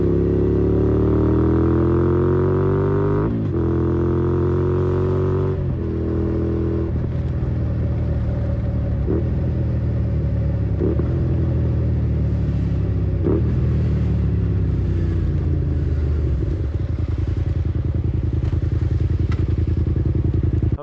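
A Honda VTR250 motorcycle engine drones loudly and steadily while riding, rising and falling through gear changes with occasional thumps over the road.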